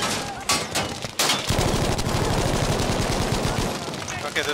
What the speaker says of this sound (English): Oh my god, so many bullets.